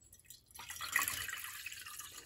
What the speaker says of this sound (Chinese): 倒掉以后呢，我们还用这个温水多倒一些